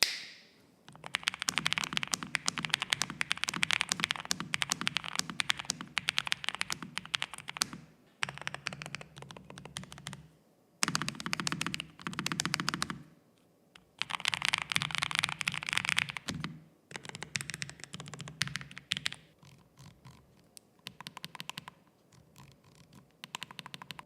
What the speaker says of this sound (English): Let me show you how this keyboard sounds to type on.